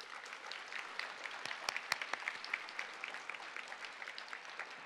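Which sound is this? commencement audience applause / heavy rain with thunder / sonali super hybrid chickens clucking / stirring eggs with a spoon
commencement audience applause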